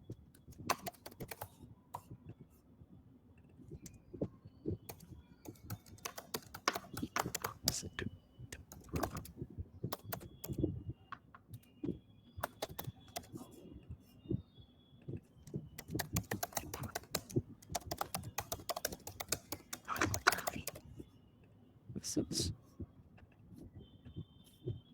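Keys clatter steadily on a computer keyboard as random text is typed, with irregular bursts of clicks continuing throughout at close range.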